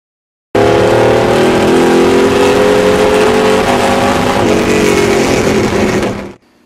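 A 632 cubic inch big block Chevy with 9.5 to 1 compression roars loudly and steadily close by, its revving engine holding a strong continuous tone for about six seconds before cutting off.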